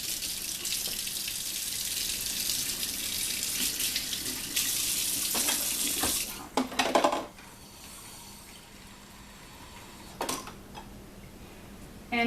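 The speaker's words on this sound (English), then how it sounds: "1/2 cup of pretty hot water." Hot water runs from a tap in a steady, close rush for about six seconds, then stops. A brief second burst follows later, and a faint clink sounds near the end.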